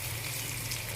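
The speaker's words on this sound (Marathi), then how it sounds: "हा छान तडका रेडी झालाय" A tempering of cumin, asafoetida, plenty of garlic and chili sizzles in hot oil in a pan, giving a steady, close, hissing crackle with no pauses.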